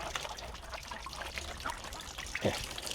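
Water running while freshly harvested cassava is washed, the runoff foamy: a faint, continuous trickle and pour, with a slightly louder splash near the end.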